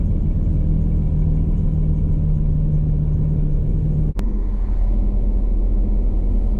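Grove TMS9000 crane truck engine rumbling steadily as the clutch engages and the vehicle begins to move, with a brief click partway through, loud and close.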